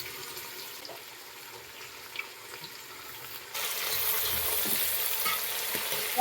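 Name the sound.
spices, green chillies and carrots frying in a pan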